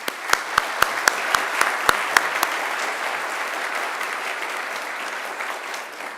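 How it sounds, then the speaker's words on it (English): Applause at a Macquarie University graduation ceremony, opening with a few sharp, close individual claps in a quick steady rhythm that merge into a broad, sustained wash of crowd clapping. "Let's give him another great round of applause."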